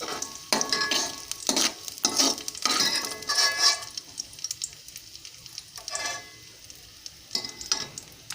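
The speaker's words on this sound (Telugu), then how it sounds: "అలాగే కిస్మిస్ కూడా వేయించుకోవాలండి." Raisins sizzle and fry in hot ghee in a pan, with steady crackling bursts and stirring scrapes rising and falling in a close, moderately loud kitchen sound.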